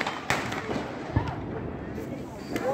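Scattered pops and thuds of Diwali firecrackers go off at a distance, a few sharp bangs spaced irregularly over talking voices.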